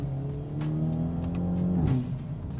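A modified Hyundai Elantra N accelerates hard, its engine note climbing steadily with a brief dip near the end as if shifting, loud and close, with no voices.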